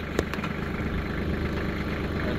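Tractor engine running steadily with a hay baler working behind it, a loud, even rumble with one faint rhythmic knock near the start.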